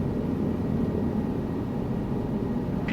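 Helicopter flying in Microsoft Flight Simulator 2024 over the Grésivaudan Valley in the French Alps, a steady, loud, broadband rotor and turbine roar with no change in level throughout.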